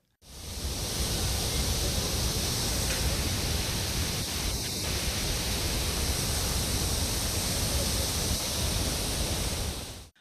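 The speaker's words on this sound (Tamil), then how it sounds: "மெயின் அருவியில் பாதுகாப்பு வளைவை தாண்டி தண்ணீர் ஆக்ரோஷமாக கொட்டியது" Courtallam's main waterfall in Tenkasi, swollen after heavy rain, thunders over its safety barrier in a continuous, loud, broadband roar that stays steady for about ten seconds with no voices.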